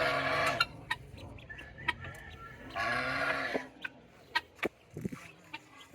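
Ayam Cemani crossed with Black Australorp chickens cluck and squawk in short bursts, fairly close, with a few sharp knocks between calls.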